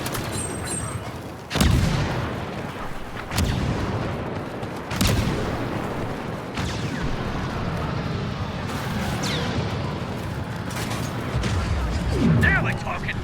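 In the Star Wars Battlefront II video game, an HTE heavy cannon fires repeated loud, booming blasts a second or two apart. The shots cut through a constant roar of battle noise.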